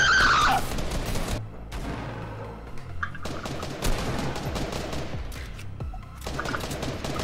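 Rapid gunfire in Fortnite, dense bursts of shots crackling almost continuously for several seconds with brief gaps, loud and close, with other game sounds layered underneath.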